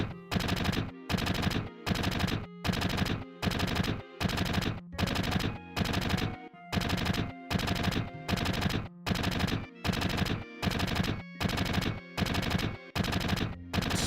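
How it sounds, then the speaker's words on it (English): Shinra soldiers firing in Final Fantasy VII on PC: a loud, steady string of automatic-gunfire bursts, evenly spaced and repeating throughout, with no voices. "Here comes the Shinra soldiers. They're shooting at us."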